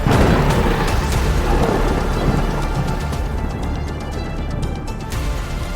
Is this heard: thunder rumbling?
yes